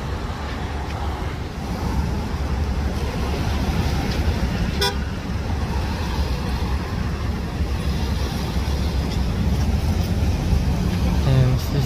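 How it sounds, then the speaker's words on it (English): A short car horn toot rises near the end over a heavy, continuous roar of traffic and wind noise on a roadside by a car crash scene. "And that's the car that beeps at me."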